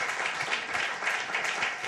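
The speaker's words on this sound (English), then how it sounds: "so a round of applause for Charles." A crowd at an awards-style talk bursts into dense, continuous applause, an even wash of many hands clapping at steady volume throughout.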